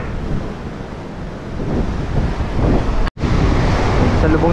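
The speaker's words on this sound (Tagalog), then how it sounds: "Strong waves." Strong ocean waves rolling in a steady, loud surf roar, mixed with wind buffeting the microphone, with one brief dropout near the end.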